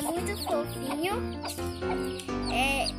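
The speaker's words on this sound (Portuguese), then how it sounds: "eu tô aqui com um pintinho na mão, que é daquela galinha ali" A hen on a rural farm clucks and chatters near her seven newly hatched chicks, a busy, continuous run of close-up clucks and bird calls mixed with soft background voices.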